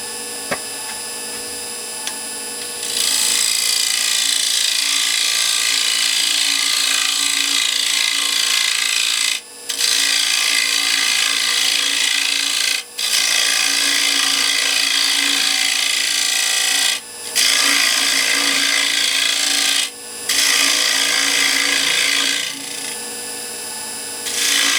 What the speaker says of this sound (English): just once again with the spindle gouge